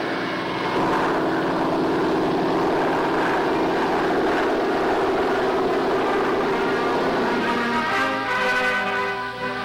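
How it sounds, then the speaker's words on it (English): Transport airplane engines drone loudly and steadily during an airlift, a continuous close propeller roar with a slight tonal shift near the end. "Just 5 hours after H-time, the first plane is loading."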